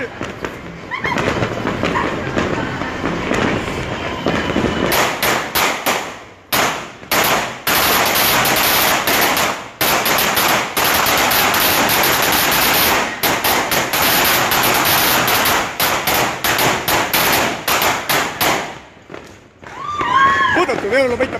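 Long strings of firecrackers crackle and pop in dense, rapid bursts during New Year's Eve celebrations, loud and close, with brief gaps between volleys and people talking and shouting in the background.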